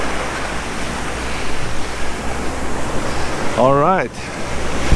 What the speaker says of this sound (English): Now you just have this the surf right here, which is kind of innocent